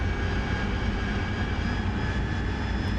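Steady, loud jet aircraft engine drone in DCS World flight simulation, a dense continuous roar with a faint high whine, sustained evenly without change across the moment.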